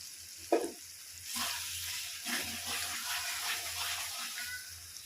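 Tomato and spice masala frying in a pan for a small-potato curry, a soft sizzle with scraping stir strokes and a few clinks, close and fairly quiet.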